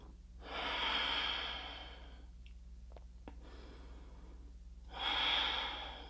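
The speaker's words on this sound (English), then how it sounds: "Staying here, nice, easy breathing." Slow, easy breaths during a seated yoga twist: a long, airy exhale, a quiet pause with small mouth clicks, then another soft breath. The breathing is close and gentle over a low hum.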